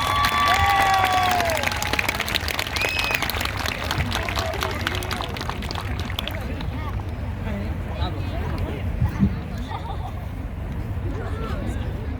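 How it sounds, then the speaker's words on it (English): A crowd at an outdoor rally against Israeli occupation claps and cheers in a dense burst that gradually thins over several seconds into scattered hand claps and murmuring voices, with chatter and background noise continuing. "Another round of applause."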